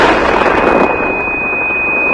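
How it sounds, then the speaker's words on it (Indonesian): Explosion sound effect in a Korean drama: a loud, close boom with a rumbling burst that cuts off abruptly, leaving a steady high electronic ringing tone behind it. "Haejo mendengar suara ledakan."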